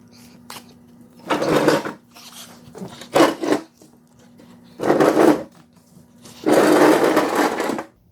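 Metal mower deck being dragged out from under a John Deere D Series riding mower, several loud scraping, clunking bursts separated by short pauses, with a steady hum underneath.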